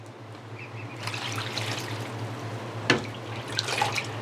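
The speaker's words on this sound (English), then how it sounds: "So I'm going to just use this to dip some water and fill up their waterer here." Water is dipped and poured into a chicken waterer, a soft continuous splashing and trickling with a few louder sloshes, close by over a low hum.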